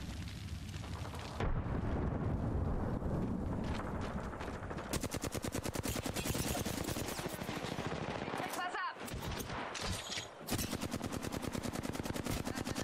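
Rapid automatic gunfire from Apex Legends gameplay, dense bursts of shots filling most of the stretch with brief pauses between volleys, loud and close.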